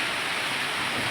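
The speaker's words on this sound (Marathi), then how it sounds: "जोरात चालू झाला बाई पाऊस" Heavy rain pours down in a steady, dense hiss, continuous and fairly close, with no voices.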